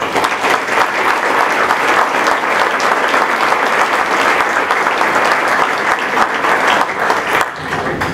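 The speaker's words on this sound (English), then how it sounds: "we'd like to have a round of applause and thank you." Sustained, loud applause from a room full of people at a Politics and Eggs breakfast event, continuous hand clapping filling the whole stretch.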